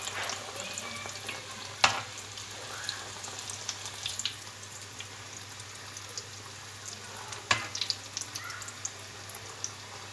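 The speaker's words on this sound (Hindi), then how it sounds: "अब मैं इनको फ्राई करूँगी।" Chicken cheese balls, potato and chicken croquettes, frying in hot oil with a steady soft sizzle and crackle, plus a couple of sharp clatters near the start and middle.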